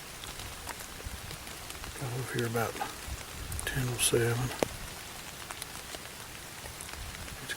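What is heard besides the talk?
rain falling outdoors in the woods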